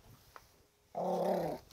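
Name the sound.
dog growling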